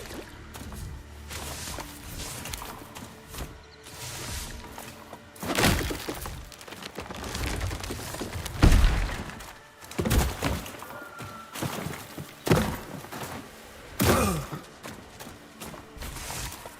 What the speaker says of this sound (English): Making enemies go kaboom.